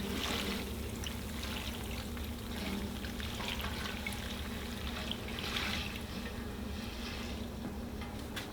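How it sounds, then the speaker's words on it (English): Rendered deer fat and cracklings pour through four layers of cheesecloth in a steady trickling stream, a soft continuous liquid flow heard close up with no talk. "we're going to take our fat and all of the cracklings and pour it through the"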